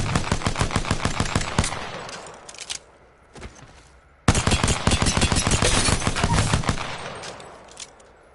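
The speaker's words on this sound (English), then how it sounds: "As you can see, it's a tap-fire pistol." A P2020 pistol in a video game fires in rapid tap-fire bursts, a fast string of loud sharp shots, a brief pause with a few isolated shots, then another long rapid volley.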